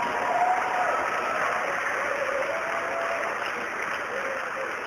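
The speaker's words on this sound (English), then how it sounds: "Give the Lord a mighty hand clap of praise." A church congregation gives a sustained round of hand clapping in praise, dense and steady for about five seconds, easing slightly toward the end, with a voice faintly audible beneath.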